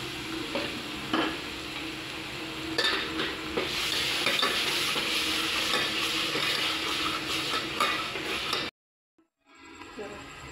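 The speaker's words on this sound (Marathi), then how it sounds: "हा मसाला थोडासा तेल सुटेपर्यंत परतून घ्यायचा बघा" Ground masala paste frying in oil for a black brinjal and bombil curry, a loud continuous sizzle broken by spoon stirs and scrapes, ending abruptly in silence before faint sounds resume.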